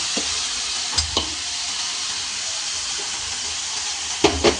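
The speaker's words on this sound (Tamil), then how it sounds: "சிக்கனை போட்டு அரைச்சி வச்ச மசாலாவை ஊற்றுங்க" Chicken fries in a pan with ground masala paste poured over it, giving a loud, continuous sizzle broken by a few sharp clinks and scrapes of stirring.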